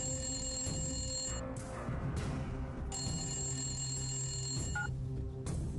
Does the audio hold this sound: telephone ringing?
yes